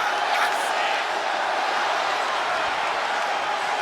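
A wrestling arena crowd cheers for Trish Stratus at a SmackDown main event. The broad, steady roar of many voices continues throughout, with no single voice standing out.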